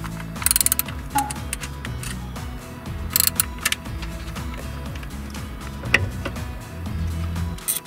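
A ratchet wrench loosening the ignition coil bolts on a Honda Stepwgn RF3 i-VTEC engine, giving repeated fast metallic clicking strokes close up, broken by a few sharper clanks of metal against metal.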